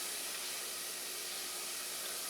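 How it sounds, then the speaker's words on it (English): A faint, steady sizzle of food frying in a pan while making chicken enchiladas with mole sauce, an even crackling hiss that stays unbroken the whole time. "we want to slow down that sizzling"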